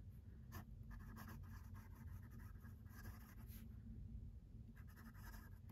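An Esterbrook fountain pen with a journaler nib scratches across paper in short strokes, the soft scratching heard close and faint in uneven bursts with brief pauses.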